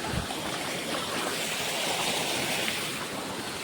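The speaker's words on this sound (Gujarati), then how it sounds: "પાણી હાલે છે" Water flowing through an irrigation channel on a farm, a steady, loud broadband rush that holds constant from start to end, with wind mixed into the sound and no voices.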